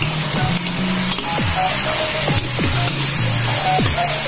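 Beef paklay, a Visayan dish of beef and innards, is stirred in a hot pan, a loud steady sizzle overlaid by rhythmic scraping strokes of a spatula close by.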